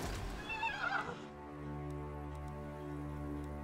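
A horse whinnies loudly for about a second in Total War (Mortal Empires, Bretonnia campaign), then a steady low in-game drone carries on alone.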